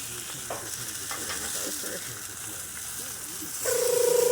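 Bratwurst frying on a Blackstone griddle, giving a steady soft sizzle throughout that swells louder near the end, with faint utensil scraping underneath.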